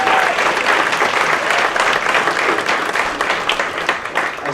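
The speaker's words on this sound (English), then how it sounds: "Let's give them a round of applause." A full audience applauds at the grand opening of a performing arts center, steady dense clapping sustained throughout with no speech over it.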